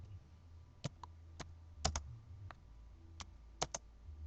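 Keys on a computer keyboard are tapped in a sparse, uneven series of about a dozen crisp clicks, some in quick pairs, quiet and close in an otherwise still room.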